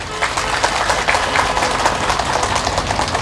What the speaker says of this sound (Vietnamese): quý vị dành một tràng vỗ tay thật lớn